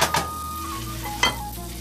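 Minced meat keema for a Shinwari mince karahi fries and sizzles on high flame, with a steady hiss under two sharp metallic stirring clinks, heard up close.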